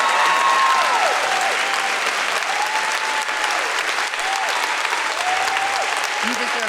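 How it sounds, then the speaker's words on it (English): Sustained applause from a large crowd at a live event in Cleveland, dense and steady throughout, with faint whoops and cheers rising above the clapping. "You deserve all that applause."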